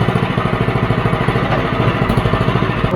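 A Predator 212 small engine runs close up through a Super Trap disc muffler fitted with only four discs, a steady rapid thumping exhaust beat with a slightly uneven, bouncing idle, and no talking.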